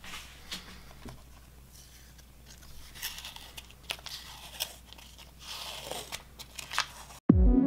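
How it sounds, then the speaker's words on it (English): Moistened protective paper peeled off a part from a Raspberry Pi 3 kit, close-up irregular crackling, tearing and crinkling bursts over a low hum, ending in a sudden loud thump. "I moistened the paper a little bit and then started peeling"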